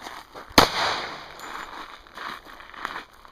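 A single sharp gunshot cracks out loudly during a firearms training movement drill, followed by echoing range ambience and faint shuffling movement.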